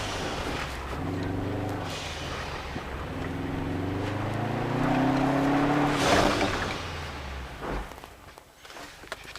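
A 2011 Subaru Forester S with MRT performance upgrades drives around a roundabout. Its engine drone rises and falls steadily under wind noise, climbing in pitch partway through before easing off.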